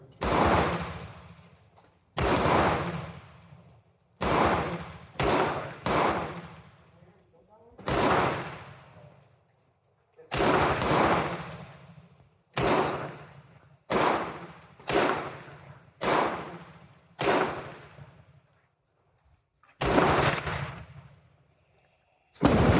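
An Astra 600/43 pistol fires about fifteen loud, sharp gunshots outdoors, each ringing and decaying, spaced irregularly in quick pairs and single shots with short gaps.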